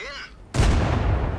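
A loud, close artillery shell impact in World of Tanks, striking an IS-3 tank as a single heavy boom that follows a quieter stretch and rumbles on for a second.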